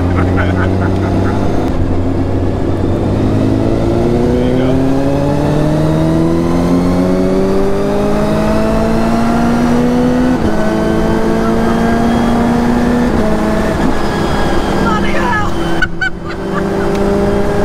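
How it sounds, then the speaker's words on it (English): A Hayabusa-engined Fiat 500 screams through repeated hard revs, its engine note climbing steadily through the gears with loud, continuous rising harmonics. A brief dip comes near the end, and there is no talk. "when you get on it, then the revs start to grow, and you have a much different sound"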